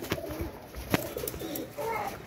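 Teddy pigeons, a breeder flock, coo in a loose low murmur with scattered short calls and a few sharp knocks, fairly close and steady.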